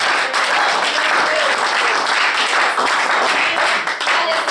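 Church congregation applauding loudly during a pastor's sermon, dense sustained clapping with faint cheering voices mixed in, steady and strong throughout.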